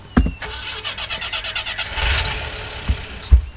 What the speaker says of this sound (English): Can the engine start? Come on, start!